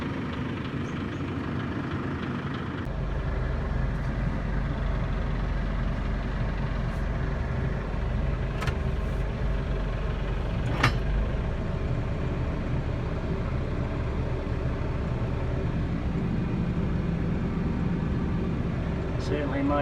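A Chamberlain C-6100 tractor engine runs steadily at a low idle throughout, a continuous heavy rumble with a brief louder knock near the middle.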